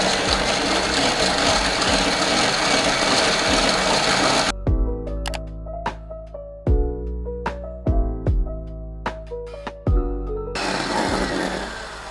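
An electric hand mixer beats one egg with powdered sugar, water and vanilla extract at high speed for a chocolate steamed sponge cake, giving a loud steady motor whir at the start and end with a quieter, irregular middle stretch.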